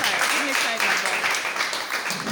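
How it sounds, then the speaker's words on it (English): An audience claps for a preacher at a church gathering, a dense burst of hand clapping under a speaking voice. "Another hand clap for Joel Ssekamatte."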